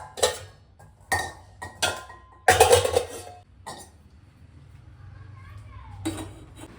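Dishes and pots clatter and clink in a home kitchen sink as they are washed, several sharp bursts of metal and crockery knocking together, loudest in the middle, with quieter running sounds in between.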